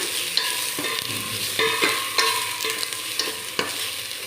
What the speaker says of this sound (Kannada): ಕಡಲೆಬೇಳೆ ತೊಳೆದು ಇಟ್ಕೊಂಡಿದ್ವಲ್ಲ ಅದೊಂದು ಕಪ್ ಹಾಕೋಣ ಅದೊಂಚೂರು ಬಾಡಿಸ್ಕೊಳ್ಳೋಣ